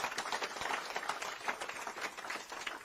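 An audience claps steadily at a formal evening gathering of Kenyan professionals in Geneva, the applause continuous and moderately faint throughout the short stretch.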